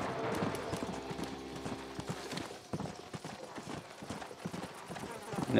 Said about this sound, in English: whoa, let's get another horse